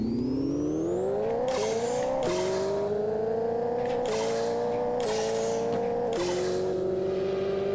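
A race car in the Pixel Car Racer video game accelerates hard on nitro, its engine whine climbing steadily through repeated sharp gear shifts, loud and continuous with no talking.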